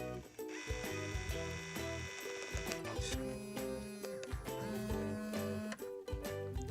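A Brother VC500W full-colour label printer prints a basket design, giving off faint, busy mechanical whirring with stepped motor tones that shift in pitch and continue unbroken.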